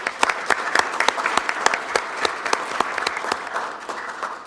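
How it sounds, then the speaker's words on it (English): Steady applause from a small crowd, clapping continuously for several seconds at a moderate, even level. "Round of applause, please."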